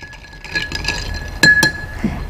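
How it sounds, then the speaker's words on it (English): An old fashioned cocktail with orange citrus being stirred in a glass, with light clinks and taps of the stirring tool against the glass, two sharper chimes standing out near the middle. "And we are going to give this a nice little stir."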